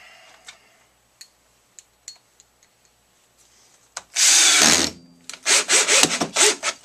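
A Bosch impact driver with a magnetized bit drives a screw into wood. Faint scattered clicks come first, then a loud, close burst of hammering rattle, a brief pause and several more choppy bursts.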